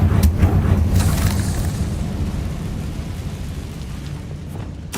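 Confringo spell explosion in Hogwarts Legacy, a loud booming blast at the start with a rumbling, crackling tail that slowly fades over several seconds.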